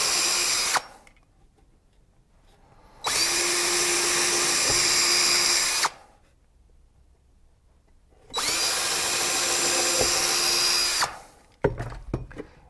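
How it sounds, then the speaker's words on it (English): A power drill pre-drills holes in birdhouse wood in two long, loud whirring bursts separated by quiet pauses, ending with a brief clatter. "I can now use the pencil marks on the outside as a guide for pre-drilling some"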